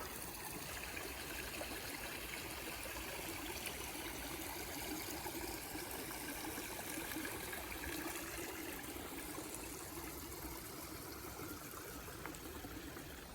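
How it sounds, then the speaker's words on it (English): A little river flows steadily through a holiday park, its continuous rushing and trickling water faint and even throughout, with no voices. "Got this little river. Have a little sit there, listen to the river, and chill out"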